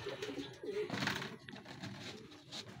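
A racing pigeon coos softly on arrival at its loft, a few low murmuring coos close by in a quiet setting.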